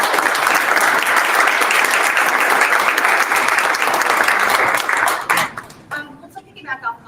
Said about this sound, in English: Okay, let's give a big round of applause.